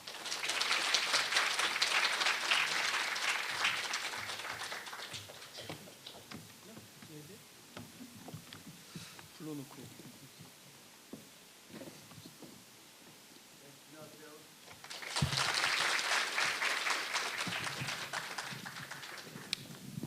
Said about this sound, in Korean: 오늘 좋은 발걸음 해주신 윤석진 부원장님을 뜨거운 박수로 환영해 주십시오